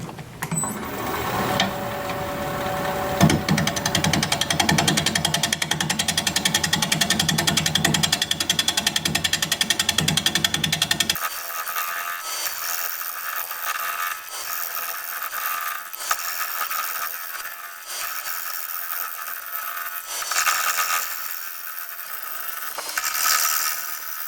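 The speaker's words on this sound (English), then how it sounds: "We're going to be turning at 650 RPM, 5/8 inch bowl gouge" Wood lathe turning an oval bowl at 650 RPM with a 5/8 inch bowl gouge: a loud, dense rhythmic chatter and scraping with a steady machine drone, giving way to a lighter, intermittent cutting texture partway through.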